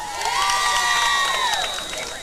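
A crowd at a Williamstown Braves high school football game cheers loudly for cheerleaders, a sustained roar of voices with rising shouts, fairly near.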